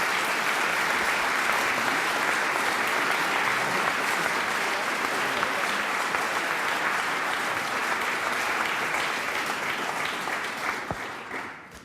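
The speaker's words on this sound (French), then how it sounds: "Alors, on peut l'applaudir." Audience applauding an award winner, Paul Benoît, at a digital talent prize ceremony: dense, steady clapping from a sizable crowd that holds at full strength before tapering off at the end.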